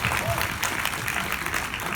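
A short burst of audience clapping, dense and steady, with a voice speaking over it.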